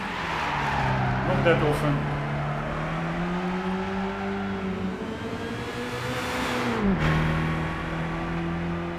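A Mercedes 300 SL racing on the Nürburgring in Gran Turismo 5 holds a loud, steady engine drone that rises and falls with the throttle, dips sharply at a gear change, then climbs again, with a brief voice over it.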